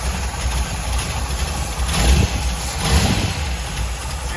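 A 1955 engine idles steadily right after its first start-up following six months of sitting dormant, a close, rough rumble with two brief swells in revs.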